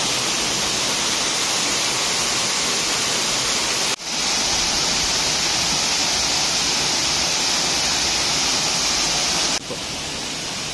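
A waterfall inside a cave in Odisha roars as a steady, loud broadband rush of falling water, close and continuous, with brief cuts in the sound near four and nine and a half seconds.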